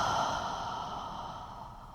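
A long, breathy exhale through the mouth during a hamstring bridge exercise on a mat, close and soft, fading steadily over two seconds with no talking.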